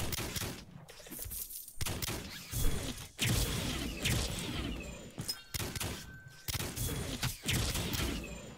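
Repeated bursts of crashing explosions and gunfire-like blasts in quick succession in the game Wolcen: Lords of Mayhem, loud and chaotic, with brief electronic tones between.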